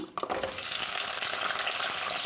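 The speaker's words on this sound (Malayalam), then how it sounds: "നന്നായിട്ടൊന്ന് വഴറ്റിയെടുക്കാം" Whole shallots sizzle and fry steadily in hot oil in a pan while making a pearlspot fish curry, a dense continuous crackle, close and loud, with no talking.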